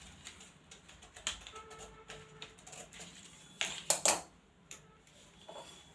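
Scissors snip through a paper pattern for a size 40 blouse cup piece, giving faint close crisp cuts and rustles, with a louder cluster of handling clicks and crinkling near the middle.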